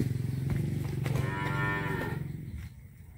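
A pregnant cow about five months along moos in one long, loud, close call that fades out toward the end.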